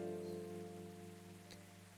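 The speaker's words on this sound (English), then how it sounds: "They have like the perfect rain sounds." Steady rain ambience from the café game Coffee Talk, a soft continuous patter at an even level under a low sustained music drone, with no voices.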